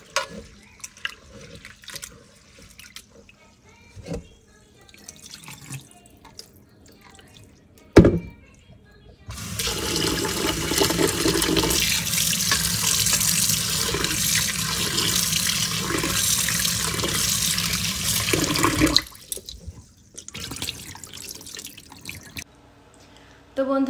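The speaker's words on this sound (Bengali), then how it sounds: "সাবুটা একটুখানি ভালো করে ধুয়ে নেব, ধুয়ে তারপরে ভিজিয়ে রাখবো।" Sago pearls are rinsed under a running kitchen tap, a steady hiss of water lasting about ten seconds between quieter drips, clatters and handling sounds.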